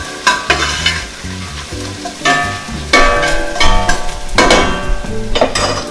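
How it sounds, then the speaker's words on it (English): Onions frying and caramelizing in a pot for chicken biryani, a loud close sizzle broken by repeated scraping stirs of a utensil against the pot. "our onions are nicely getting caramelized"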